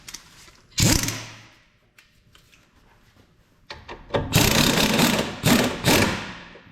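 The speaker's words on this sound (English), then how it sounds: "let me just run that in with the impact real quick" An impact wrench with a torque stick running in a rear shock absorber bolt on a 2011 Ford Fiesta sedan: one short rattling burst, a quiet pause, then several loud hammering bursts close by.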